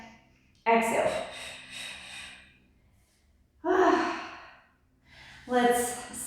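Three forceful exhales during a fit ball exercise class, each a sharp breathy burst followed by a fading tail, with near-silent gaps between them, close and fairly loud.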